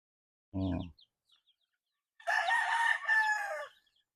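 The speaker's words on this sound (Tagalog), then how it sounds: "Pakita ko lang sa iyo, mayroon na tayong mga sisiw." Chickens on a backyard farm with newly hatched chicks: a short cluck, then a loud, drawn-out crowing call lasting over a second, with no talk.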